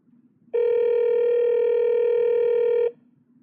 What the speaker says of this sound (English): You can also tap on a phone number in a text message to instantly call that person.